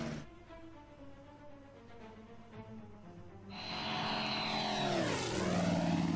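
Russian propeller planes in Order of Battle drone overhead, a low buzzing engine hum that swells into a loud rising-and-falling whine as one passes close by, over a layered battle background.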